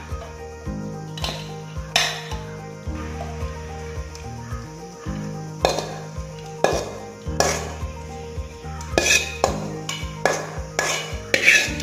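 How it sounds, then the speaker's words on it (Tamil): Repeated clinks and scraping taps of cooled Indian gooseberry pieces dropped into a mixer grinder jar, with steady background music throughout. "இப்ப வந்து ஒரு மிக்ஸி ஜார்ல போட்டுக்கலாம்."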